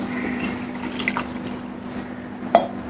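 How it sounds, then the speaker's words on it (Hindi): A glass of water is poured into a cooking pot, giving a steady liquid rush with faint splashing, close by, and a small clink near the end. "इसमें मैं 1 गिलास पानी डालूंगी"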